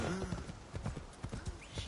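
Horse hooves gallop in a steady clip-clop rhythm in Assassin's Creed Shadows, close and fairly loud, with brief game voices and whinny-like tones over the hoofbeats.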